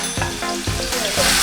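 Onions hitting hot olive oil in a pan, a loud close burst of sizzling with a few sharp stirring knocks over a brief moment.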